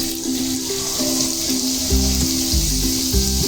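Garlic and ginger sauté in a pan for Ilokano imbaliktad na baka, a steady bright sizzle with some watery, tap-like hiss and a few low thumps from stirring, close and continuous with no talking.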